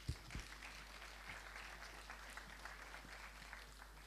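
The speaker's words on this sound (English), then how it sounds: "a big round of applause for" Faint audience applause for the jury at a startup pitch event, a soft continuous patter of clapping from a modest crowd under a low steady hum.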